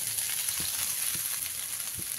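Fried potatoes tipped into a pan of figs sizzle with a steady, close hiss of hot oil, broken by a few soft stirring thuds, and no one speaks.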